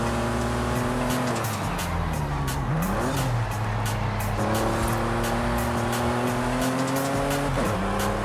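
Citroen C2 V6 in Forza Horizon 5, its engine revving loudly and continuously, with pitch climbing through gears, dropping at shifts and ending in tire squeal, with no voices.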